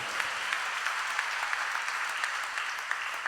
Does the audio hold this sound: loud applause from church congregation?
yes